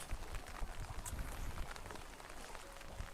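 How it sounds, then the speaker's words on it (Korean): Steady rain falls outdoors near a swaying bridge on a Sinan island, a dense broadband patter with scattered louder drops, continuous and fairly close. "요즘에 촬영만 했다 하면 여기 비가 오는데"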